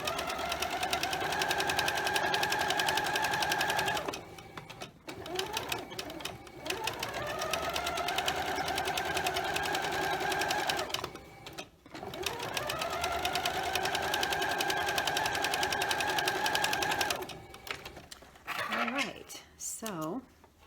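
A sewing machine stitches half-square triangle units for a quilt block in several steady runs of rapid mechanical whirring, each a few seconds long, with short pauses between them and someone speaking over and between the runs.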